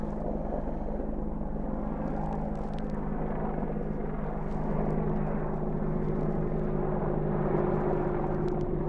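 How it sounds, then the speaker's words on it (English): An Apache helicopter passing over Salisbury near Stonehenge, a steady low rotor thrum at moderate distance that swells slightly toward the end, with outdoor background noise and no talking. "that is an Apache helicopter"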